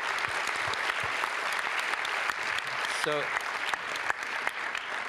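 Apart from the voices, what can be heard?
audience applause for a conference panel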